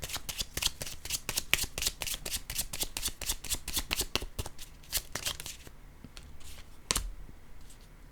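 A deck of tarot-style cards is shuffled close up in a rapid riffling flutter of dense snaps for several seconds, then slows to a few sparse card flicks and a soft thud.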